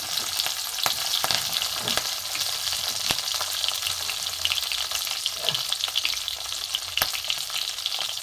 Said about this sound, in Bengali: একটু ভেজে নেবো ক্যাপসিকামটা